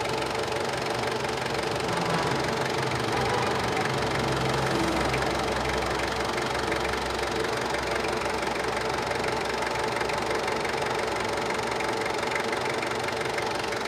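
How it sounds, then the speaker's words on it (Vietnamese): A 2007 Ford Everest turbo diesel engine runs at idle, giving a steady, close low rumble with a fine rhythmic knocking clatter that stays even and unbroken throughout, without any talking. "cục máy nè, cục máy khá là êm nha"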